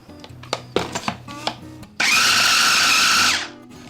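A stand mixer beats pork dumpling filling on high speed for a second round, a loud steady whir lasting about a second and a half before cutting off, after some clattering and knocks.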